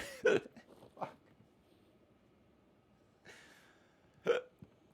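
Sharp hiccups during a tabletop game session, two loud ones near the start and end plus a couple of softer catches between, alone in a quiet room.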